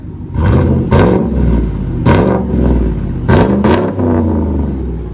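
A 2018 GMC Sierra's supercharged 6.2L engine, its muffler cut off and run through straight pipes, revs loudly and close by in three sharp bursts over a steady, rumbling idle, with no voices present.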